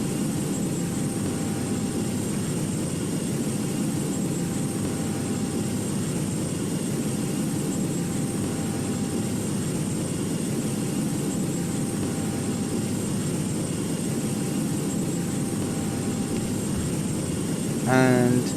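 Virgin Airbus A330-900neo jet engines spooling for takeoff in the GeoFS flight simulator: a steady broad roar and hum that holds throughout, with a voice talking over it near the end.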